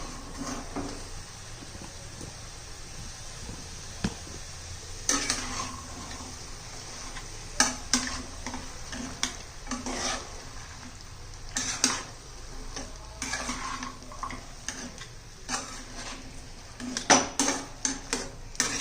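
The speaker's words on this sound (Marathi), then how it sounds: "आता हे सर्व आपण मिक्स करूया व्यवस्थित" Repeated scraping and clinking of a spoon against a metal pot, irregular taps and knocks as vegetables and soaked peanuts are mixed, with a low steady background hum.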